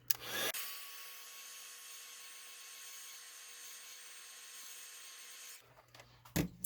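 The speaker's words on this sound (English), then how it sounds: "I'm going to bring in my heat tool to speed that up" A heat tool drying stamped ink blows with a steady, even whir for about five seconds, with a faint hum and soft handling noises before and after.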